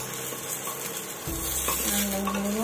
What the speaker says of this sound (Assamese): মিক্স কৰি লৰাইছোঁ